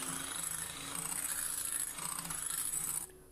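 Cake batter for a custard cake pudding is beaten after a third of a cup of vegetable oil goes in, making a steady, close scraping and whirring rub that runs for about three seconds and then abruptly stops.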